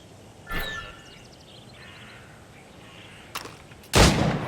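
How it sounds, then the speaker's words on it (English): Gunfire at shooting targets in the video game Assassin's Creed Rogue: a sharp shot near the start, then two more cracks later, the last the loudest, each separated by quiet background ambience. "Shoot these targets."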